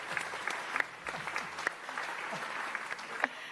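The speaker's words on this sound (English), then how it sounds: "a huge round of applause for picnic benches" An audience at the Frontier Expo 2017 Planet Coaster stage show breaks into sustained applause, a dense wash of clapping with a few sharper claps standing out, steady for several seconds.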